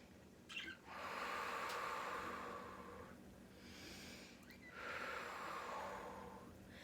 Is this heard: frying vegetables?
no